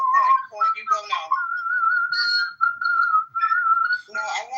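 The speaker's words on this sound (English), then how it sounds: "I will whistle Mozart." A man whistles a Mozart melody, a clear sustained whistled tune with held notes and short phrases, close and loud, with brief bits of speech-like sounds between phrases.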